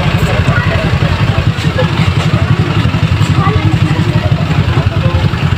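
A motorcycle engine runs steadily near a police station service area in Cabanglasan, Bukidnon, giving a loud, even putter with a rapid pulsing rhythm and light clatter throughout.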